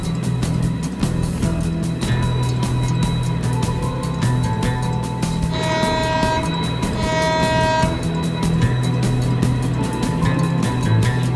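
Janshatabdi express passenger train on the Coimbatore–Mayiladuthurai route travelling through delta farmland, a loud steady rumble of wheels with rhythmic clatter over rail joints and a sustained tonal horn-like hum midway.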